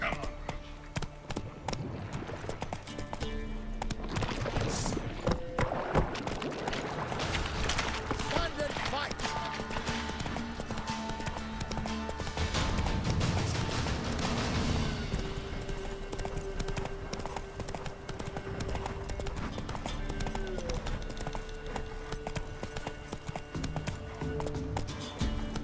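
Geralt's horse Roach in The Witcher 3, hooves clip-clopping in a steady trot with an occasional whinny, close and prominent, game music and a voice speaking over it.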